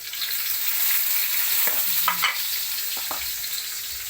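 Tomato and onion sauté in a pan with a constant loud sizzle, broken by a few scraping stirs of a spatula near the middle, with no talking.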